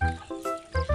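Pigs grunting and squealing close by, a few loud bursts with short gaps, rough and nasal.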